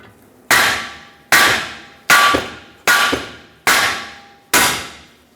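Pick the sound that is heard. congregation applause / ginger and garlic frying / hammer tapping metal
hammer tapping metal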